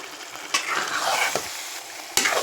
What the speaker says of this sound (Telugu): ఫిష్ని యాడ్ చేసుకొని కొంచెం మిక్స్ చేసుకుందాం